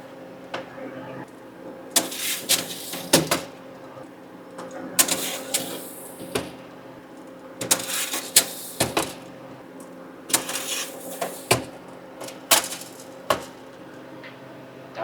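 Plastic trays of Skittles candy clatter and knock as they slide into a Harvest Right home freeze dryer, giving sharp irregular clacks and scrapes at close range.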